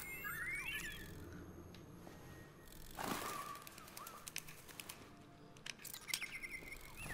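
Artificial birds cooing and fluttering indoors in Detroit: Become Human, with soft chirps, wing flaps and scattered pattering against a quiet room tone.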